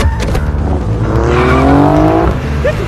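A car speeds hard through a film chase scene, engine roaring loud and close while tires squeal in a rising, drawn-out screech.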